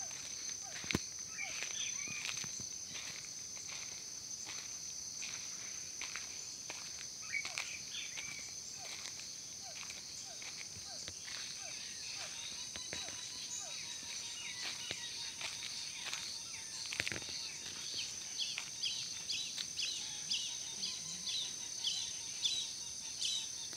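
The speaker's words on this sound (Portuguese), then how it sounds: "O sapo tá cantando." Frogs croak near a reservoir outdoors, a steady run of short pulsing calls over a dense, continuous insect buzz with occasional bird chirps, moderately close and without talk.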